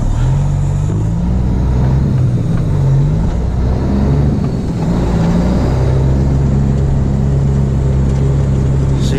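A Freightliner 10-speed semi corn truck idles and drives slowly around a lot, its diesel engine producing a loud, steady low rumble with a droning tone that shifts pitch slightly, heard from inside the cab.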